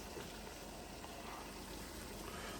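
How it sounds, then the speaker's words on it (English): Pot of water at a rolling boil under a makeshift lid, a faint, steady bubbling hiss with no talk. "So that's a rolling boil."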